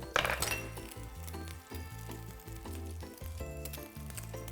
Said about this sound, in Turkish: Şimdi yağımız bu arada biraz kızarsın.